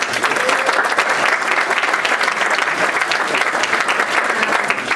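An audience at the New York Energy Week 2014 closing ceremony applauds the headline sponsors, a loud, thick wash of clapping sustained evenly throughout without speech.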